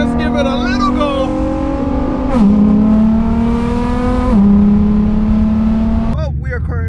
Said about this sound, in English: just driving the car now and giving it a few pulls